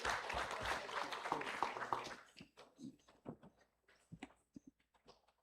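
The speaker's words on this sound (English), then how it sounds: "All right, give a big round of applause." Audience clapping for a presenter at a science pitch event in Indonesia, a short burst of applause lasting about two seconds, then scattered isolated claps and faint noises as it dies away.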